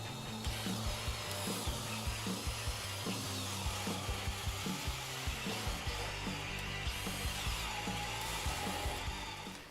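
A Makita XPH07 (DHP481) cordless drill bores holes in wood, giving a loud, steady motor whir with a faintly pulsing grind as the bit chews through the workpiece, no voices present.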